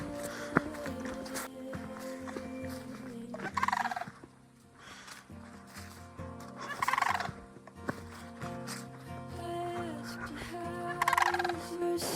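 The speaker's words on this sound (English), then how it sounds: "I think those are called sandhill cranes. That a very distinct call." Sandhill cranes call repeatedly outdoors at a campsite near Yellowstone, sending rolling, rattling bugles in several bursts over a steady background hum. They sound moderately distant and there is no talk.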